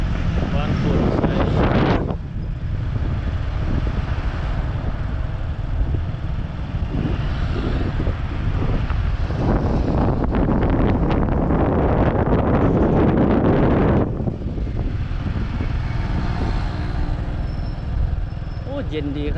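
Strong wind gusts outdoors in central Vientiane near high-rise buildings, buffeting the microphone with a constant broadband roar that swells and eases, while a voice talks beneath it.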